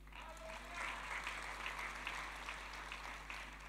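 A congregation applauds during a church worship service at GBI Baranangsiang: a steady, distant wash of many hands clapping, held at a fairly low level throughout.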